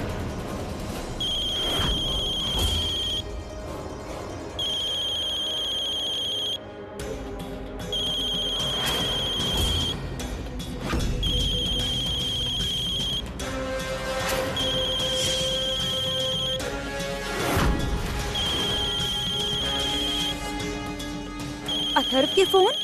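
A phone rings in a Hindi TV drama scene, a repeating electronic ringtone of short bright bursts that recurs steadily over background music and occasional speech.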